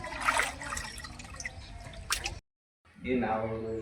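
Fish being washed in water in a kitchen while preparing fish curry, with splashing and dripping near and clear, a brief silent gap, then a voice talking over continued water sounds.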